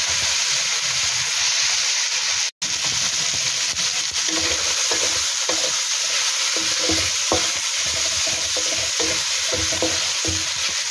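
Pork sizzles loudly and steadily in a pan as it renders its own fat for a pork afritada, with stirring scrapes and crackles throughout and a brief cut of silence early on.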